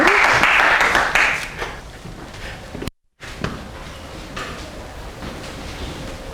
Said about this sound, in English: can you clap your hand for it?